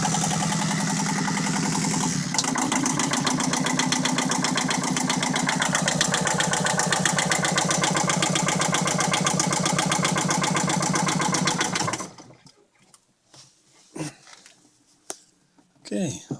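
A Yanmar 2GM marine diesel engine runs at a steady, loud, dense chugging with heavy vibration for about twelve seconds, then cuts off abruptly, leaving quiet knocks and faint rattles.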